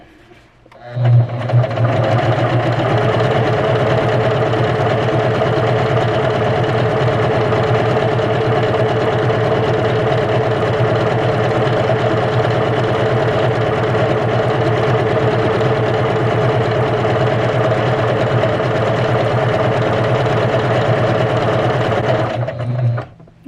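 A Juki HZL-K85 beginner sewing machine stitches continuously for about twenty seconds, a close, steady mechanical hum and rapid needle clatter that starts abruptly and stops at the end.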